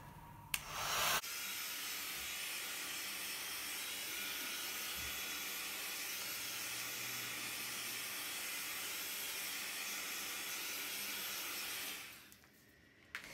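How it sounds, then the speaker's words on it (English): Cheap Lidl heat gun at around 500 degrees Celsius blowing hot air over acrylic pour paint, a steady airy hiss and fan whir lasting about eleven seconds before switching off. "I'm using cheap heat gun from Lidl."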